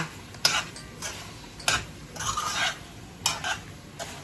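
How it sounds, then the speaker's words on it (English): Jamaican curry chicken feet stirred in a pot, a spoon scraping and clinking in repeated strokes over a quiet simmering sizzle, close and fairly soft. "I'm going to give it a stir again and make sure everything, no sticking going on"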